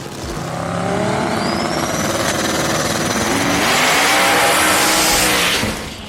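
A purple Dodge Charger and a green Firebird run side by side in a drag race. A loud, sustained engine roar builds within the first second, holds for about five seconds, then drops away near the end, with no talking.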